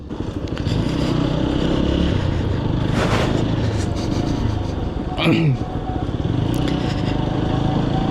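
An Apache RTR 4V motorcycle ridden along a road: a steady, close engine drone with wind rush, a brief rise in revs, and a scraping clatter passing by near the middle.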